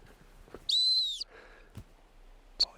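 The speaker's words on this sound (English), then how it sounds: "I've done sit whistle, sit whistle, sit whistle about 10 or 15 times." A dog-training sit whistle gives one sharp, high, sustained blast of about half a second, followed later by a brief short chirp, heard close and clear in an otherwise quiet outdoor setting with faint rustling.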